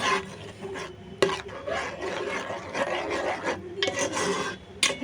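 Fish curry (chapala curry) with turmeric and chili powder being stirred in a pan, a close, steady scraping and rasping of a spoon against the pan in irregular strokes, with occasional sharper knocks.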